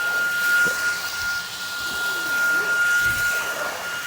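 Eureka ReactiSense 440 cordless stick vacuum cleaner running in auto mode, giving a steady airy whoosh with a thin, constant high whine, up close with faint voice traces underneath.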